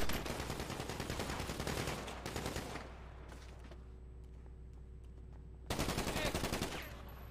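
Rapid automatic gunfire from a video game heist, loud and dense bursts for the first few seconds, a pause with faint background, then another loud burst near the end.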